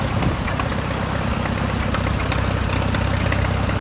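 A Minneapolis-Moline Model U tractor's 4-cylinder engine runs at a steady, loud idle, its low chugging pulse continuous and close throughout with no voices.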